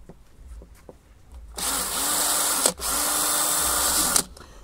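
A power drill bores through material with a bit, whirring loudly and steadily for about a second, cutting out briefly, then spinning up again for another stretch before stopping; quiet taps come before it.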